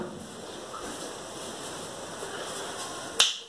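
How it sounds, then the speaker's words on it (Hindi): A single sharp finger snap cracks out near the end, loud and close, after a few seconds of steady background hiss. "तो चुटकी मार के हम वापस आ चुके हैं"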